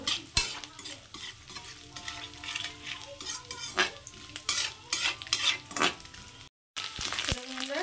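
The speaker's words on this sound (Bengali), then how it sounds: "নারকোলটাকেও একটু লাল লাল করে ভেজে নেব।" Chopped coconut frying in oil in a pan, steady sizzling with stirring scrapes and occasional clinks of a utensil, close and moderately loud, with a brief gap near the end.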